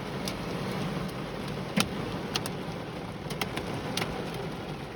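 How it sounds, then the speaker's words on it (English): Hail strikes a car body in a few sharp, scattered impacts over steady rain noise, close by and moderately loud, with no talking. "Those hail balls popping out the car."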